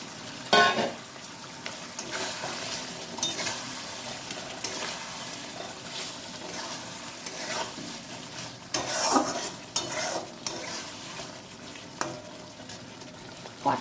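Pointed gourd pieces that were fried earlier are being stirred in a spice paste with sour curd. The sizzling is steady and moderate, and the spoon scrapes and stirs in repeated strokes with occasional clinks against the pot.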